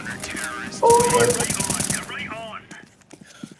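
Automatic gunfire in Counter-Strike 2: a loud, dense burst of rapid shots over about a second, then sparser shots and game sounds, with people talking over and around it.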